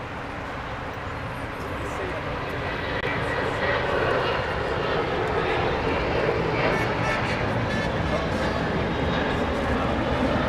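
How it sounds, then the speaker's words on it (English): A Breeze Airways Airbus A220-300 jet arriving at LAX gives a broad, steady engine roar that swells over the first few seconds and then holds loud and constant. "It's an Airbus A220-300."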